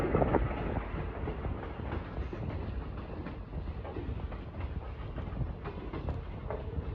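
Heard from inside a moving excursion train pulled by steam locomotive 765, a steady rumble with periodic clickety-clack of wheels over rail joints, moderately loud and continuous.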